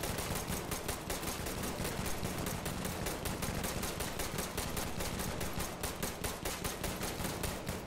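Rapid automatic gunfire from a video game rattles on without pause, a dense run of sharp, loud, evenly spaced shots with no one talking over it.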